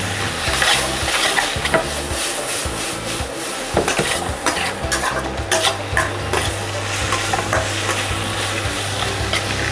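Green chilies and capsicum cooking in a pan for papad veg rolls, with steady frying sizzle and repeated scraping and stirring strokes of a spatula throughout, close and fairly loud.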